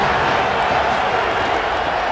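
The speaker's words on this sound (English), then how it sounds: "Crowd getting this defense whipped up on third down." A stadium crowd roars in a steady, dense wash of cheering on third down in the College Football 27 game, loud and continuous with no distinct voices on top.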